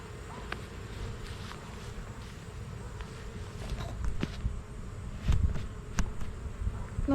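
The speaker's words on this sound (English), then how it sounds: "I do not like wasps. Go away." A wasp buzzes close by outdoors, a thin steady whine under rustling and footsteps, with a few sharp knocks toward the end.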